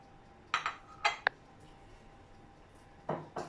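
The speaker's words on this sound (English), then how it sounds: "We're just going to cut this now and put some butter and our homemade jam." Knife scraping and clinking against a plate as freshly baked homemade scones are cut and buttered, a few short clatters separated by quiet pauses, close by with no talking.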